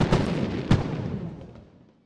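Fireworks go off during a Fourth of July show on a video game build server, with two sharp bursts close together followed by a fading, rumbling tail.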